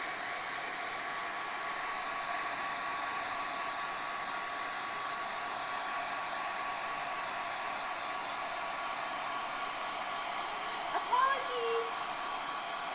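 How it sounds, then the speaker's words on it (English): A blow dryer runs steadily close by, drying a watercolor painting, its even whooshing hum lasting throughout, with a brief voice near the end. "Blow dryer."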